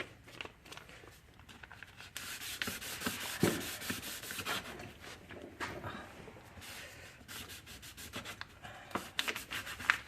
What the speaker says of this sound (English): take some light sandpaper, some really light sandpaper. Let's go with 1200 on this.